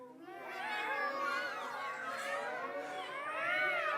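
Children in an audience imitating hungry cats, a dense overlapping chorus of high wavering meows and yowls sustained throughout, loud and close, with no other sounds standing out.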